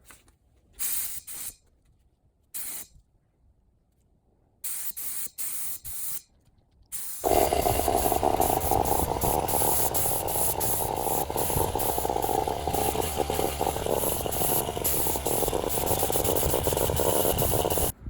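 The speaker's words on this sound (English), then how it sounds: "We're getting ready to spray clear coat" Spray cans apply paint and clear coat to a fire-burned car engine bay: several short hissing bursts separated by silence, then one long, loud, continuous spray hiss close by.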